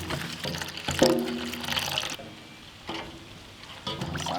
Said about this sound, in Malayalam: കുറച്ച് കുരുമുളക് പൊടി, കുറച്ച് മഞ്ഞൾപ്പൊടി, കുറച്ച് വെള്ളവും കൂടി ഒഴിച്ച് നമുക്ക് മിക്സ് ചെയ്തെടുക്കാം.